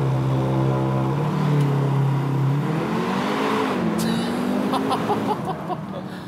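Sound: Audi TTS Roadster launch control acceleration out of a tunnel

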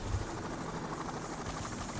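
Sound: helicopter overhead in the video game Payday

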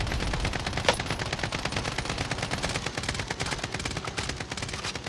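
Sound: gunfire in video game Call of Duty Cold War Warzone

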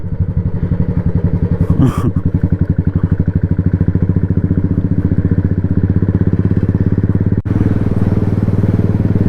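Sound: motorcycles riding at full speed on village road

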